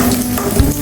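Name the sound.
onion and garlic frying in a pan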